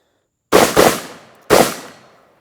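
A Vepr 12 shotgun fed from an SGM magazine fires three loud, close blasts: two in quick succession, then a third about a second later, each trailing off in a short echo.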